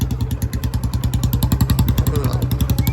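An old Royal Enfield Bullet motorcycle thumps steadily at close range, its single-cylinder beat pulsing in an even, rapid rhythm with a faint clatter over the low throb.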